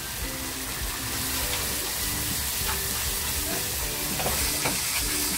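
Tomato puree with salt fries in a pan, giving a close, steady sizzling hiss with soft bubbling and faint stirring scrapes, and no one speaking.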